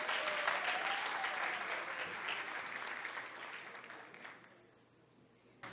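An audience claps at an economists' award ceremony, the dense applause starting strong and gradually fading away toward the end, leaving near quiet, with no one speaking.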